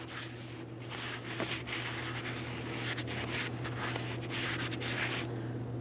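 Rag soaked in parts cleaner rubs across a brake rotor on a 2008-2016 Chrysler Town & Country, a continuous close scrubbing and swishing with rhythmic strokes over a steady background hum.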